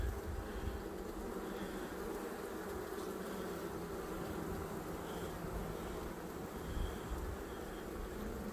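Honeybees buzzing around an open hive during an inspection, a steady dense hum close by with no voices, continuous throughout.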